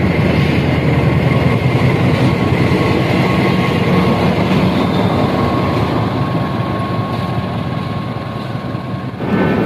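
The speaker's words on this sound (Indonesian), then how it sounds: "Wah, itu ada kereta apa tuh baru turun tuh." Indonesian train descending a steep mountain line, heard from trackside: a loud, continuous rumble of wheels and wagons rolling past, with a steady tonal hum, fading slightly toward the end and cut off abruptly, with no voices.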